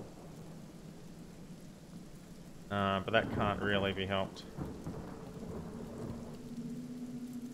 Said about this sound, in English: It is raining over here